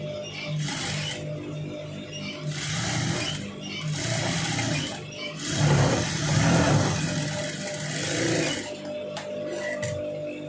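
Sewing machine stitching a long sleeve, running in repeated bursts of steady whirring with brief pauses between, close and fairly loud, no talk.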